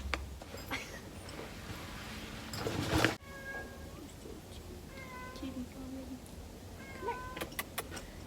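Cats at a horse barn meow several times, some close and some a little off, with a brief rustle partway through and a few faint clicks near the end.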